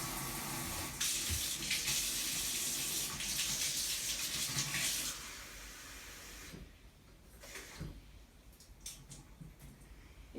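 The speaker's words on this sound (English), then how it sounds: "I'm using my warm water just from the sink." Warm water gushes from a kitchen sink tap with a steady, close hiss for about five seconds, then the flow stops and only faint room noise remains.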